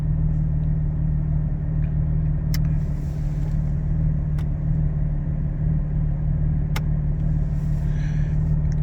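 A car fitted with a Soul Performance V2 exhaust and resonated OAP rumbles at a steady, low idle close by, droning evenly with a few faint clicks.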